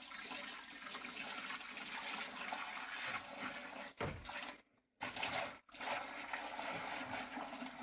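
Whey and curds for homemade Emmental cheese pour in a steady, heavy gush from a pot, continuous and close, with two brief breaks where the flow stops before resuming.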